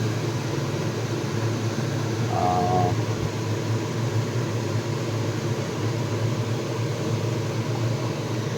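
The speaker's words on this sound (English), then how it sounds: "This is making a racket at the chimney, but we need to cook." Kitchen chimney hood running noisily while pasta cooks, a loud steady broadband whir and hum that stays constant throughout, with a brief faint tone near the start.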